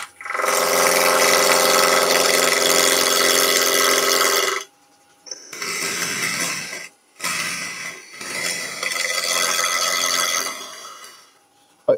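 Hard oak spinning on a wood lathe, cut with a bowl gouge: three loud, close bursts of rough, whining cutting noise, a long first pass followed by two shorter ones separated by brief near-silent gaps.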